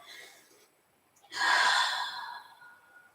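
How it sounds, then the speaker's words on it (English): A deep exhale through the mouth during a gentle hatha yoga class, a single breathy whoosh swelling up after a faint inhale and fading slowly, close and alone. "Couple more deep breaths in through the nose, and if you'd like, you can exhale through the mouth"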